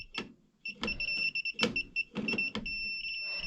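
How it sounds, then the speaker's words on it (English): A circuit breaker finder emits rapid electronic beeps in bursts, close and fairly loud, interrupted by handling clicks and a short gap at the start. "whichever one glows red and starts beeping really fast"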